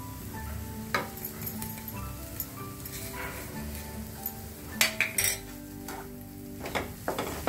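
Almond halwa with sugar is stirred and sautéed in a pan over low heat. A metal spoon scrapes and clinks steadily against the pan under a soft, constant sizzle, with a few sharper knocks near the end.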